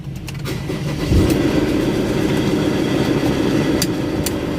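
A Ford Ranger Wildtrak 3.2 diesel fires up with a sharp start, then settles into a loud, rough, uneven idle that runs steadily close by, with no talking over it.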